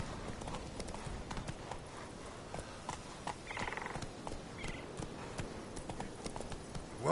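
Roach, the horse in The Witcher 3 video game, clip-clops along in a steady, quick rhythm of soft hoofbeats, with faint ambient noise around them.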